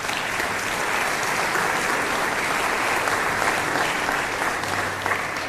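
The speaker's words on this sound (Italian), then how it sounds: "Io direi che un applauso lo merita." An audience applauding at an event honoring a professor, steady even clapping for several seconds at moderate volume, no talking.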